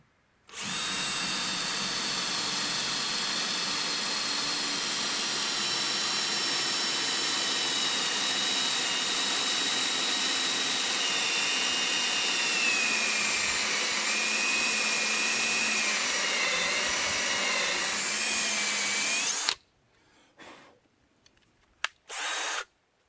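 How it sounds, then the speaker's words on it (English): An electric drill fitted with a 1/8 inch bit runs for nearly twenty seconds as a loud, steady high whine with a slight drift in pitch, then stops, leaving a few faint clicks. "I'm going to take a drill, about a 1/8 drill bit"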